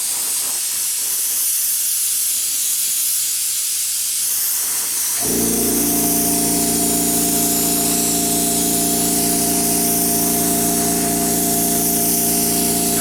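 An airbrush sprays a very light coat of paint over a Strange New Worlds Enterprise model, a steady close hiss that starts partway through and runs on evenly without a break.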